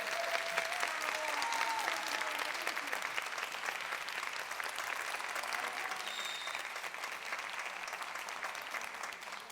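Sustained applause from a talent show audience, steady, dense clapping filling the whole stretch at an even level, alone without talk.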